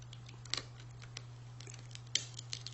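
Scissors snipping into a rattlesnake's tail rattle on a cutting board: a few sharp, quiet clicks and crunches spaced apart over a steady low electrical hum.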